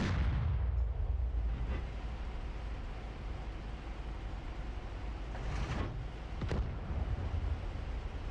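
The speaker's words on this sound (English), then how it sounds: "Yeah, Shermans can shoot their guns as well, of course." Sherman tank guns firing in the DCS combat game, a steady low rumbling battle din with a few sharper distant blasts and bangs scattered through it, no voices.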